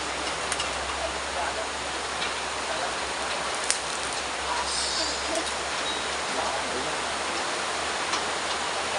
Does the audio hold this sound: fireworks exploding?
no